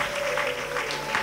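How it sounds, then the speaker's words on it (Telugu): A crowd at a church gathering claps hard, a dense, continuous wash of applause filling the whole moment, with a steady tone humming underneath. "గట్టిగా చప్పట్లు కొట్టాలి"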